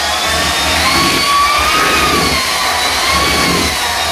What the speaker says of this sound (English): you can use an electric hand mixer